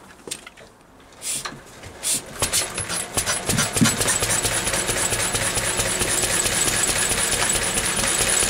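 Small engine started after a spark plug swap, beginning with a few faint taps and splutters before settling into a loud, steady, rapid running chatter close by.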